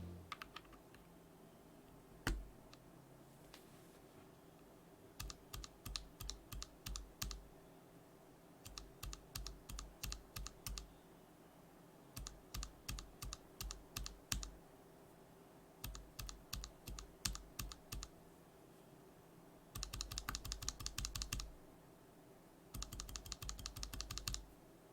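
Typing on a mechanical keyboard fitted with lubed NovelKeys Cream tactile switches and Kibo-filmed housings, with bursts of quick, crisp keystrokes separated by short pauses and then a couple of denser, faster runs near the end, close and clear.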